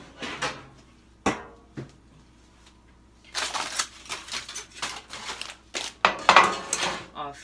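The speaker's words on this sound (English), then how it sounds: "but I'm now grabbing a cookie sheet" A metal cookie sheet is pulled from kitchen storage while preparing cookie dough, giving bursts of clattering, knocking and scraping across the second half, close and fairly loud, after a few isolated knocks.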